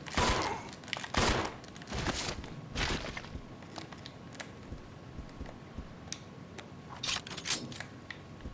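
Gunfire in the Resident Evil 0 video game: a string of sharp, loud pistol-like shots in irregular bursts, fading to quiet ambience in the middle before a few more shots near the end.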